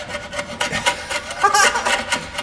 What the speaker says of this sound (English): it's a gasket scraper and it's just peeling right off